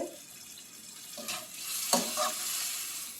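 Bitter gourd gravy simmering in a pan gives a steady low bubbling sizzle, with a couple of brief stirring scrapes partway through, close and moderately loud with no talk.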